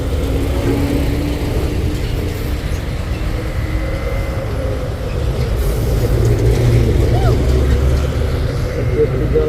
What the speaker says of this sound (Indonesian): Kontainer yang menurun bosku.